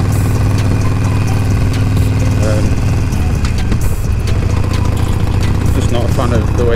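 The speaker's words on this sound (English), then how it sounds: "So I'm running stock pipes, but the baffles have been taken out, so it sounds a bit more grunty." A Harley motorcycle running stock pipes with the baffles removed, giving a loud, steady, grunty low rumble at idle, with someone talking over it.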